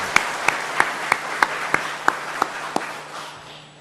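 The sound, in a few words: church congregation applauding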